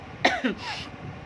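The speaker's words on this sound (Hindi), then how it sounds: "ये तो हल्की फुल्की खांसी है मौसम चेंज होने की वजह से" A single short cough, close and moderately loud, followed by a faint exhale against a quiet background.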